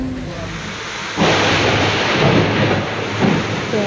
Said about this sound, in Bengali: এখনো কিন্তু বৃষ্টি হয়ে চলেছে